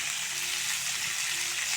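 Potatoes frying in a pan of oil with turmeric powder and a little salt, a steady close sizzle with faint stirring, no talking.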